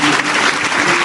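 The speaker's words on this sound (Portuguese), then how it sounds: "Pode louvar a Deus com as palmas" A church congregation claps hands in praise, a dense, steady wash of applause filling the space for about a second, loud and close with no talk over it.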